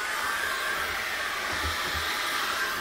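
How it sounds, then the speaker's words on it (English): A hair dryer blowing steadily while drying acrylic paint, a constant close whooshing hiss at moderate volume with no talk. "dry that with a hairdryer"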